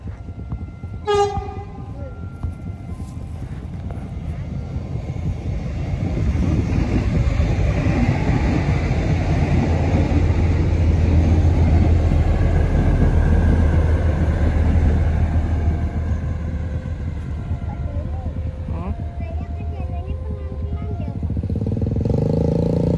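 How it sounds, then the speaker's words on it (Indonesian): An airport train rumbles past a railway level crossing in Indonesia, opening with a horn blast before a long, loud, steady rolling roar of wagons that swells and persists close by, with faint bell tones near the end. "dari arah bandara akan lewat kereta api bandara menuju ke stasiun Wates dan terakhir ke stasiun Yogyakarta"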